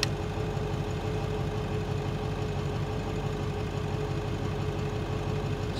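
A Ford Powerstroke diesel engine runs at a steady idle with a rough, even drone, loud and close. The truck has a one-wire alternator that is not charging, and no one speaks.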